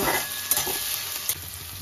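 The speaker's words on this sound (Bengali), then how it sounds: "ক্যাপসিকাম আর পেঁয়াজটাকে আমি হালকা করে ভেজে নেব।" Steady sizzling of onion and capsicum frying in a hot pan, with a couple of brief scrapes as it is stirred.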